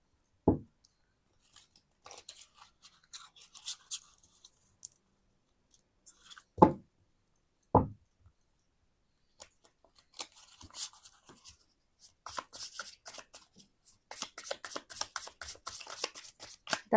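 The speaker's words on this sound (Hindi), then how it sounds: "तो मैं करती हूँ आपके कार्ड्स को शफल" Tarot cards being shuffled by hand, heard as faint scattered rustles and taps that build into a denser run of quick riffling flutters toward the end, with a few sharp knocks along the way and no talk.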